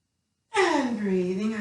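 A single deep inhalation during a yoga class, an audible breath that starts abruptly and continues steadily for about a second, close and clear.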